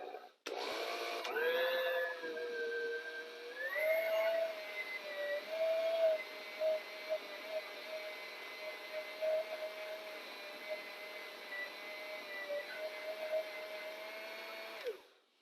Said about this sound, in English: It gives meaning to my old mixer.